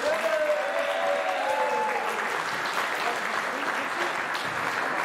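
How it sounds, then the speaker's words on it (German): An audience at an amateur U19 boxing match between Bavaria and Hesse claps in sustained, even applause that swells slightly and carries on throughout, a dense crowd sound heard up close in the hall. "Ich glaube, das ist nochmal Applaus wert."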